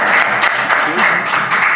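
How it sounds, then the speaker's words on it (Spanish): Audience applause at a book presentation during the FIL Minería 2024 book fair, a brief, steady burst of many hands clapping together, fairly loud and even throughout. "un aplauso"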